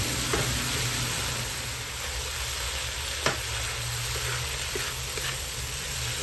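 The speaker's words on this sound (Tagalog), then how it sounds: "Lamasin natin itong ating kamatis. Tunawin natin." Tomatoes are mashed and sautéed in a hot pan while cooking squid adobo, giving a continuous loud sizzle and frying hiss with occasional soft stirring knocks, no talking.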